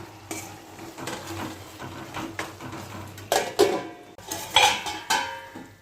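Ridge gourd tomato curry is stirred in a pan, the sizzle broken by repeated clacks and scrapes of a spoon against the metal, growing louder toward the end.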